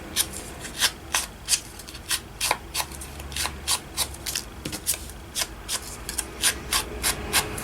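Ink pad being rubbed around the edges of paper clip tags, a steady run of short scratchy brushing strokes, close and fairly loud, repeating about twice a second with no talking.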